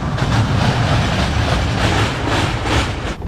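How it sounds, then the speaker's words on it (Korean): A roller coaster train running along its track at an amusement park in Kyrgyzstan, a loud, continuous rumbling roar with rhythmic clatter, close by and without voices. "청룡열차다"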